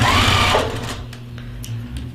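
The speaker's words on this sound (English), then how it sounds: "I'm just gonna stitch." A sewing machine stitches quilt fabric in a fast, loud whirring run that stops after about half a second, leaving a quiet room with faint clicks.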